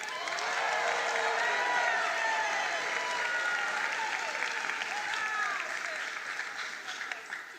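Sustained crowd applause at the 2024 NSC examination results announcement ceremony, honouring a prize-winning learner; dense, even clapping fills the hall, holds steady, then slowly tapers.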